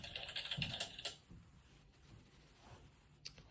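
Computer keyboard keys are pressed in a quick, soft cluster of clicks, faint and close, followed by a few scattered taps in near silence.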